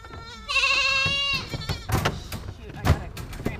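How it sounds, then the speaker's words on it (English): A goat at a goat shelter gives a loud, wavering bleat up close, followed by scuffling and further rougher animal calls, with people talking nearby. "That's a girl goat."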